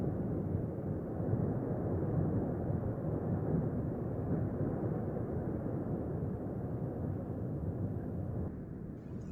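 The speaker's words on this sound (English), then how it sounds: "You can hear the roar of the high fountain in the background" A steady, deep rumbling roar of a high lava fountain at the Cumbre Vieja volcano eruption on La Palma, October 2021, broad and continuous without pause, with no voices.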